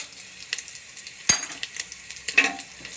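Ginger and whole garam masala spices frying in a pot, with a soft sizzle broken by irregular close scrapes and knocks of a spoon against the metal.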